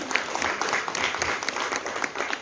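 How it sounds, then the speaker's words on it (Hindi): Audience applause breaks out at a Mahashivratri gathering at Om Shanti Bhawan in Indore, greeting a singer as he comes up; dense, steady clapping with no talk over it. "उनका भी जोरदार ताली बजा के हम स्वागत करेंगे"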